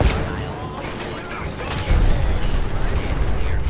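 Rapid gunfire from the Fallout 4 video game crackles and booms continuously, loud and close, with a heavier burst of shots near the middle, under mixed in-game effects.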